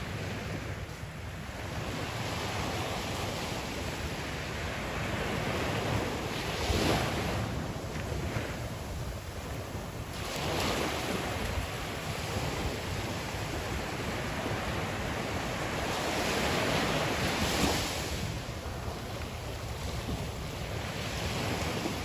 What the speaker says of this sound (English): I am going to be quiet for a little while and let you all have some beach time.